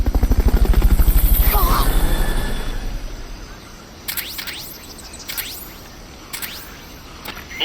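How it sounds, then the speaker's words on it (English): In the Metal Gear Solid Peace Walker video game, a helicopter's rotor chops loudly and rhythmically during a Fulton recovery pickup, then fades as several sharp synthetic swooshes and beeps sound over it. "Fulton recovery subject confirmed onboard helicopter."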